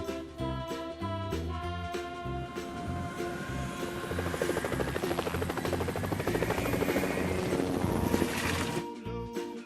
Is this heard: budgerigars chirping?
no